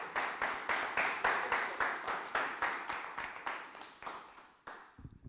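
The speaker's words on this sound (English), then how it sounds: "Start clapping right now for my man, the hilarious John Phillips." An audience at a comedy show claps for comedian John Phillips in steady, rhythmic bursts about twice a second, loud and close at first, then thinning and fading out near the end.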